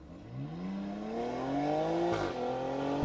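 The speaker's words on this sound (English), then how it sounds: "So I'm driving off-road with my Discovery Sport now" A Land Rover Discovery Sport D240 diesel SUV driving off-road, its engine note rising steadily as it accelerates, close and fairly loud, with a brief dip and shift near the end, no voices.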